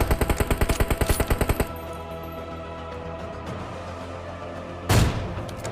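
In the video game PUBG, a rapid burst of about fifteen evenly spaced gunshots fires loud and close, then gives way to a steady hum, with one more heavy blast near the end.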